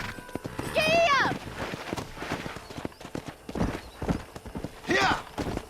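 A horse gallops in the Red Dead Redemption western video game, with quick rhythmic hoofbeats under loud whinnies, and someone talks over the ride.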